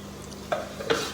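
A spoon scrapes and stirs through a pan of sizzling oil tempering for lentils, with two brief clinks against the metal.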